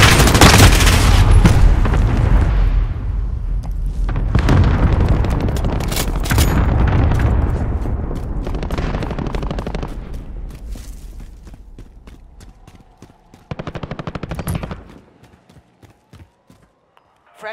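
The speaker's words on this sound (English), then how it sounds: "Enemy cluster strike incoming." Call of Duty: Modern Warfare cluster strike hammering down as heavy rolling explosions mixed with rapid gunfire, loud and dense at first, then fading to scattered shots and a final sharp burst.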